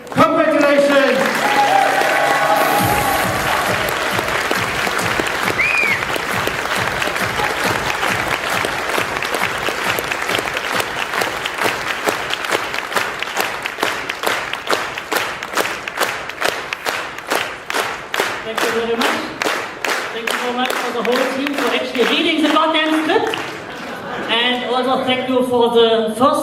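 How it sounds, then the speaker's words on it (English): Sustained, loud audience applause after a theater show, turning into rhythmic unison clapping with some shouts and cheers, and voices speaking near the end. "he needs an extra big applause"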